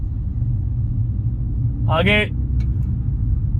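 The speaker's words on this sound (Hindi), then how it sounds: "ये जा रही गाड़ी स्पीड में, हमने तीसरा गियर लगा दिया है।" A car drives at speed in third gear, giving a steady low road rumble throughout, with a short spoken word heard partway through.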